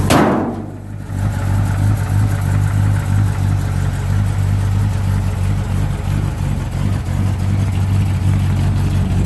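A 1968 International Harvester pickup truck engine idles steadily with a low, constant rumble after a brief louder start, no voices over it.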